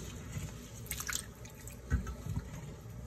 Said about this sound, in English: Rinse it out. And drain.